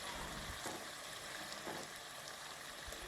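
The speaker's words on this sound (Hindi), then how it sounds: "अब हम इसमें लहसुन अदरक का पेस्ट शामिल कर देंगे और इसको भी फ्राई कर लेंगे" Onions with garlic-ginger paste frying in oil for a fish curry, a steady soft sizzle and hiss with faint stirring scrapes throughout, no voices.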